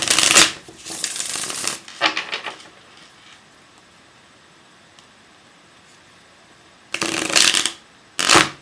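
Tarot card deck being shuffled, with loud riffling bursts at the start, a long quiet gap, then two more sharp shuffling bursts near the end, recorded up close.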